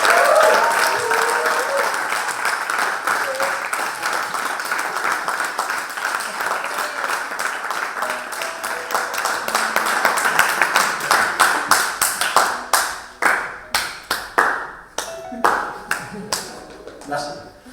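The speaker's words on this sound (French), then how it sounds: "faire un monstre bruit, un maximum de bruit pour le Seigneur, le roi des rois, à travers nos acclamations" Church congregation at an evening service applauding and cheering loudly for the Lord, a thick roar of clapping and voices that thins toward the end into sparse, separate claps.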